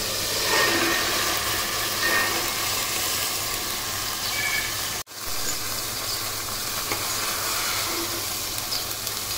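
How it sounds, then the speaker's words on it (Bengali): Chickpeas being cooked in a pan of spice paste with turmeric, chili, salt and garlic, giving a continuous airy sizzle and hiss, steady and fairly soft, with a sharp break midway as something is added or stirred. "মোটামুটি একটু সময় নিয়ে ভালোভাবে মশলাটা কষিয়ে আমরা ছোলা বুট ঢেলে দেব।"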